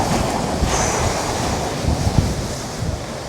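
Strong wind roars against the microphone over crashing sea surf on Madeira, a dense continuous rush, loud and close, with no voices.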